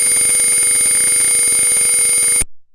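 An Arduino circuit buzzer sounds a continuous, loud electronic tone with a rapid pulsing texture for over two seconds before cutting off abruptly.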